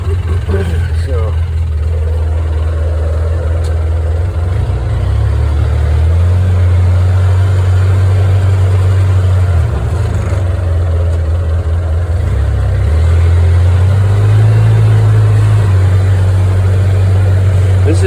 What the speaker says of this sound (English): Only one wheel drive, and I just came up that hill.